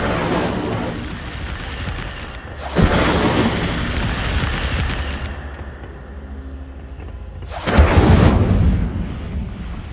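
Incendio fire spell cast in Hogwarts Legacy, heard as loud whooshing fiery bursts with deep rumbling booms, one near the start, another around three seconds and a third near eight seconds, over a steady low roar.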